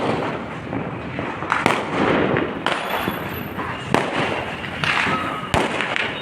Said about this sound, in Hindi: खूब ज़्यादा पटाखे फूट रहे हैं